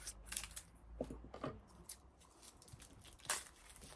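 A pack of cards for an expansion of the board game Hyperborea is torn open, giving quiet, close crinkling and sharp tearing snaps in short irregular bursts.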